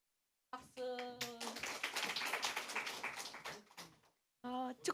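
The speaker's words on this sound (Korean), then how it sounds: "박수." At a Korean Sunday worship service, the congregation breaks into a burst of clapping lasting about three seconds. Voices are heard talking just before and after it.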